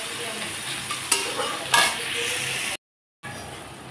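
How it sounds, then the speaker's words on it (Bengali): Chopped onion fries in mustard oil with black cumin seeds, giving a steady, moderate sizzle with two short stirring scrapes and a brief silent gap near the end. "পেঁয়াজ কুচি এখন আমি লালচে করে ভেজে নেব।"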